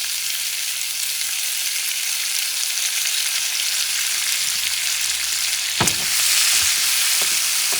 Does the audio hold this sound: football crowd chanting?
no